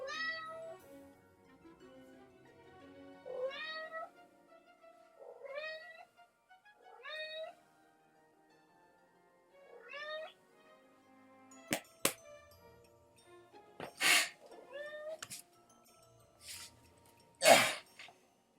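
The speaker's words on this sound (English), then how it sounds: "I don't know why she's meowing, I just fed her" A pet cat named Pearl in the Rugrats Royal Ransom game meows repeatedly with rising, drawn-out calls. Sharp sneeze-like bursts follow near the end, and no one speaks.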